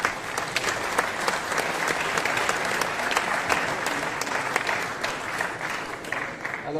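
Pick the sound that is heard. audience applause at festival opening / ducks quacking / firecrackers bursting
audience applause at festival opening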